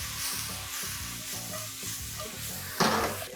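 Paneer chilli with garlic, dark soy sauce and black pepper tossed in a hot pan gives a steady close sizzle with rhythmic scraping and clatter, ending in a sharp louder hiss.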